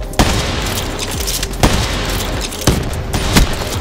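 Three or four loud, sharp video game gunshots ring out at roughly one-second intervals, fired through a wall, each a broadband crack with a short decaying tail over a steady low background.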